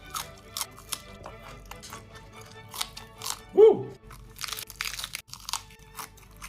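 Crunchy bites and chewing on a Thai sausage, a few crisp crackles scattered over several seconds with one louder bite near the middle, close to the mouth amid faint background noise.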